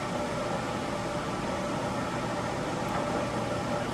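An 18-inch by 60-inch Standard Modern engine lathe runs under power, driving on the lead screw, giving a steady, continuous mechanical hum and whir with broadband noise that holds level throughout without pauses.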